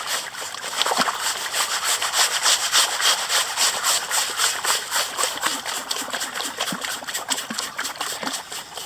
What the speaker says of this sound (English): I'm just bouncing it in my hand. I'm not actually hanging onto the sieve.